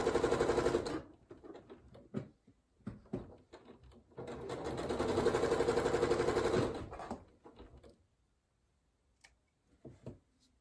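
A domestic sewing machine stitching quilt blocks in a chain, with bursts of fast, even mechanical chatter broken by pauses, handling clicks and quiet gaps, near and fairly clear.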